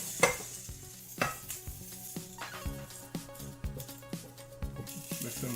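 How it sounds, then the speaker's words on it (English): Vegetables are stirred with ponzu sauce in a bowl for a sweet and spicy salmon dish: repeated soft wet scraping and clinking strokes at a steady rhythm, heard under louder background music. "Mix in the ponzu. And stir to coat."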